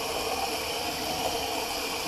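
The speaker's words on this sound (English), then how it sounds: "the hot water's returning" Hot water runs from a tap into a bathroom sink, a steady broadband hiss and splash that stays even and close for the whole short stretch, with no voices.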